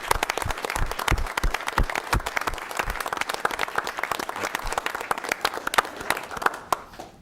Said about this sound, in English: I think we ought to just give Gene a round of applause.